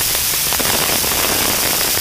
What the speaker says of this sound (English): Check out that rain.